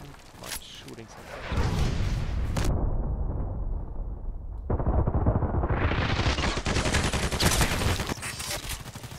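Gunfire in a shooter video game with the Vikhr rifle: loud, rapid volleys of shots and bursts of automatic fire, briefly dropping to a muffled rumble before the shooting resumes.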